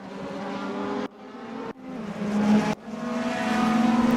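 BMW race cars with DRS in a racing video game roar at high revs, the engine drone climbing in pitch across several abrupt cuts, loud and close with no voices.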